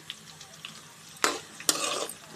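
Bitter gourd pieces frying in a pan: a quiet sizzle broken by two loud bursts of hissing, crackling spatter as the pieces are tossed or stirred, heard up close with no voices.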